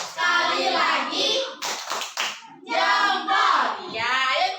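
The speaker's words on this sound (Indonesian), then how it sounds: "Kasih tepuk jempol buat Intan." Schoolchildren in a classroom clap for a classmate, sung chanting voices alternating with a short burst of sharp, close hand claps in the middle.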